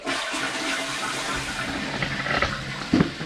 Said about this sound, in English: Okay, so I'm gonna flush the toilet.